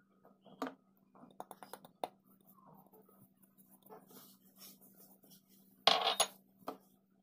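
A utensil taps and scrapes against a saucepan while mixing all the ingredients for a cooked cream, with scattered soft clinks, a steady low hum beneath and a louder clatter near the end.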